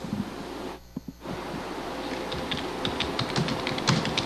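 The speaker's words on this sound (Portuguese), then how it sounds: "Vamos digitar algumas palavras e frases e ver o que encontramos." Typing of words and phrases on a computer keyboard, a run of quick, light key clicks in an irregular rhythm that grows denser in the second half, close to the mic over a steady low background hum.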